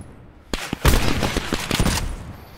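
Rapid bursts of gunfire in Call of Duty Blackout, a dense run of close, loud shots lasting about a second and a half and fading out without any talk over it.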